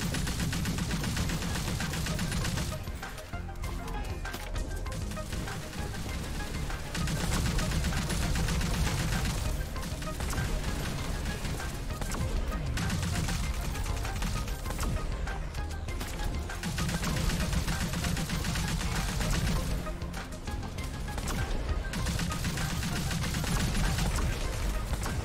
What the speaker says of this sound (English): Assault droids. Yeah, machine gun and rifle.